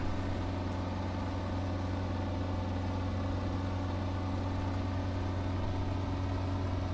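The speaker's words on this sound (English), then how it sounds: "Listen to the different sounds on my engine going through there." Steady drone of a warbird aircraft engine in Microsoft Flight Simulator, a continuous low, even hum with a constant tone and no breaks or voices.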